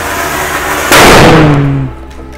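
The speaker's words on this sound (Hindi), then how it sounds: "क्योंकि ध्रुव ने पटाखा चलाया तो अंकल घर से बाहर आ गए" A firecracker set off outdoors during Diwali celebrations bursts in a single loud, sharp bang that rings out and decays over about a second, with no speech.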